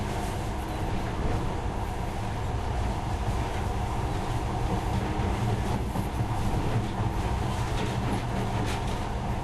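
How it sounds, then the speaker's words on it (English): A monorail train in the video game Metro Last Light Redux runs with a steady, dense mechanical rumble and clatter, continuous and fairly loud throughout. "now, this monorail seems magic, doesn't it?"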